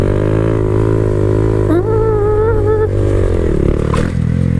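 Honda Grom motorcycle engine revving during a wheelie, a loud, close buzzing drone that rises in pitch midway, holds briefly, then drops back with some clattering.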